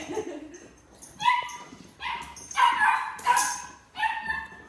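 Dogs at a doggy daycare bark and yip in a string of sharp, fairly close bursts, about five loud barks spaced unevenly, with softer whimpering between them.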